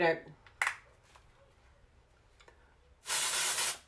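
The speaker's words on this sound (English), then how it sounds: "Texturiza is a very light holding hairspray, but it adds like weightless body and texture to your hair." Texturiza light-hold hairspray is sprayed onto hair before curling in two hissing bursts, a short one early and a longer steady spray near the end, with a voice talking briefly at the start.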